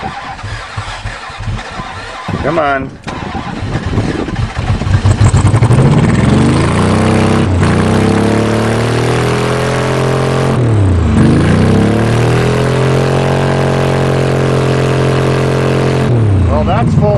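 A Ford F250 diesel truck engine cranks and catches, then settles into a loud, rough, steady running drone with brief dips and revs, close by, with someone speaking briefly over it.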